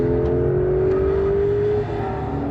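A 2025 Porsche 911 Carrera engine revs hard and steady, a loud sustained roar with its pitch climbing before dropping off near the end.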